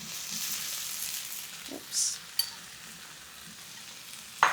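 Potato cubes sizzle as they are stir-fried in masala for aloo gobi, a steady hiss broken by scraping stirs and a few sharp clinks of the utensil, with a brief spoken exclamation.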